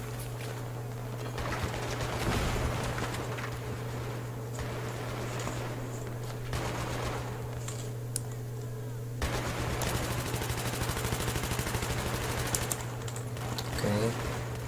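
Machine-gun suppressive fire in the video game Battlefield 3 crackles in sustained rapid bursts, mixed with game effects and a steady low hum, while players talk over it.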